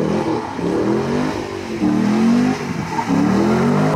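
A Chevrolet Camaro drifting around a roundabout, its engine revving in rising surges that swell and fall back repeatedly, loud and close from inside the car, with no speech.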